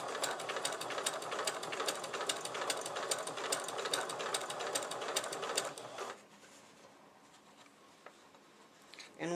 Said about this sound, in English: we're going to go ahead and start sewing